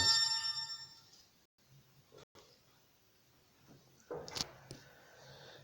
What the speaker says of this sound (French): vous avez entendu une sonnette qui dérange un peu